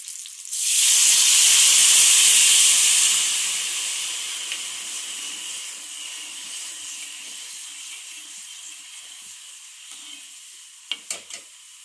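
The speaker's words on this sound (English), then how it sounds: "Now we will pour water into it." Water poured into a hot pan of sautéed, salted and sugared mixture bursts into a loud, close hiss of sizzling steam that slowly fades to a softer bubbling, with a few light clinks near the end.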